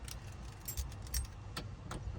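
A bunch of car ignition keys for an old Ford jangles and clinks in a few short bursts close by, quiet and metallic, with no talk.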